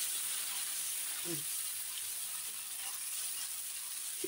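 Spice paste of ground cumin, ginger, green and dried chillies sizzling steadily in hot frying oil, a dense continuous hiss with a faint clink near the middle, close and even throughout.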